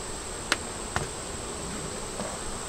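Honey bees buzz steadily around an open hive, a continuous droning hum with a couple of sharp taps near the start, fairly close and without voices.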